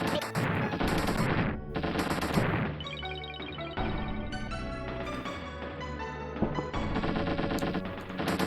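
Machine gun bursts from the SNES game Gunman's Proof, several loud rattling volleys broken by short gaps and mixed with chiptune music and crashing hit effects.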